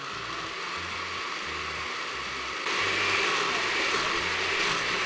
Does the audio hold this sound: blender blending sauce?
yes